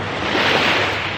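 Ocean waves wash onto the beach at Had Sor in a steady, broad roar of surf mixed with wind noise, loud and continuous.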